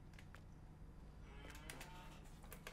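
A cow moos in the Farming Simulator 19 video game, low and fairly quiet beneath a steady engine rumble, with a few clicks and knocks near the end and no talking.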